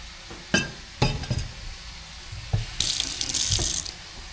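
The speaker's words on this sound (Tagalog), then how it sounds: "Lagyan ng tubig." Tap water running into a kitchen sink over bitter gourd (ampalaya) being rinsed, with splashes, knocks and light clinks as the vegetable is handled, and a louder gush of flowing water near the end, with no talking.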